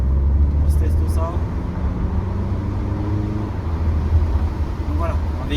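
Audi Q3 S-Line driven through town under acceleration, a steady low engine drone with tire and road noise filling the cabin, while someone talks over it throughout.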